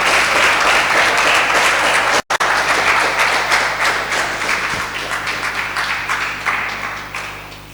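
A crowd at a senior high school renewable energy challenge claps for the Methodist girls team, sustained dense applause that continues with a brief dropout before tapering slightly toward the end.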